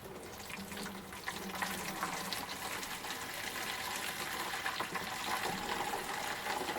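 Distilled water pours from one container into a storage container for film developer, a steady close splashing gush that keeps going without a break.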